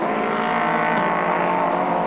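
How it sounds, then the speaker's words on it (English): A WEC endurance race car, the number 95, dives down the inside into turn 1 at Bahrain during the 2016 6 Hours, with an Audi close by, producing a loud, steady, unbroken engine roar. "The 95 car going down the inside into turn 1"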